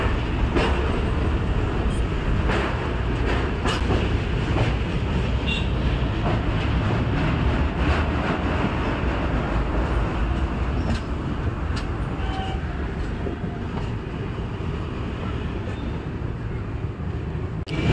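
The Garib Rath Express, an AC train from Kolkata to Guwahati, rolls slowly along a hillside near Kamakhya, giving a steady close rumble with rhythmic wheel clicks and rattles, without talk.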